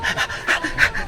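Rapid, rhythmic panting from people worn out after a long, exhausting cobra hunt, several quick breaths close and fairly loud, alone without talk.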